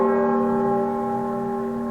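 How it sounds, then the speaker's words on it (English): A single bell rings out in an empty void, one loud sustained tone that slowly fades, with nothing else around it. "until in the void there is the sound of a bell"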